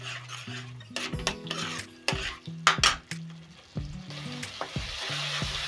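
Spices fry in oil in a pan, sizzling steadily while a spoon stirs and knocks against the metal in repeated sharp clinks and scrapes, close and clear.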